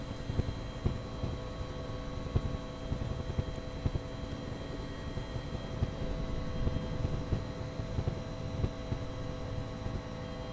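A simulated Nimbus UH-1 Huey helicopter in X-Plane 11 drones with a steady rotor and turbine hum and faint rapid blade thumping, fairly quiet and unbroken, over a flight near the Las Vegas Strip.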